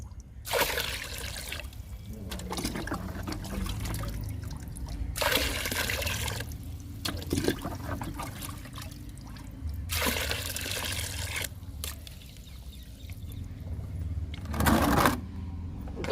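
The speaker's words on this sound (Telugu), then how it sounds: "నాలుగు మగ్గులు పోసేద్దాము" Water is poured from a mug into a 20-litre bucket four separate times, each splashing pour lasting a couple of seconds, close and fairly quiet.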